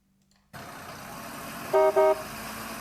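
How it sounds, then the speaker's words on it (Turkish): Two short car horn toots in the video game Porters, in quick succession over a steady engine hum. "Tut tut. Bu çiçek taksi sesi gibi."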